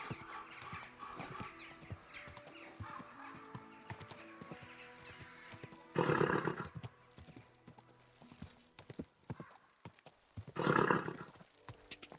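Steady clip-clop of horse hooves in the video game Kingdom Come: Deliverance II, in a quick, even rhythm, with louder bursts of activity twice and faint ambient sound underneath.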